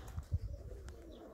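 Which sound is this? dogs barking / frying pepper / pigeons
pigeons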